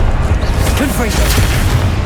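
A Confringo fire spell blasting in Hogwarts Legacy, a booming burst with a fiery whoosh over steady game ambience while a voice shouts the incantation.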